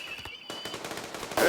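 Gunfire from the video game RimWorld crackles in a quick run of rapid bursts over about a second and a half, sharp repeated reports like automatic weapons, with a louder burst at the very end.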